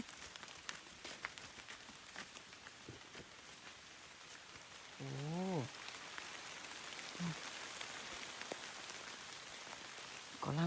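Steady, quiet rain patters on a surface in the distance, with a few faint voices and brief sounds breaking through.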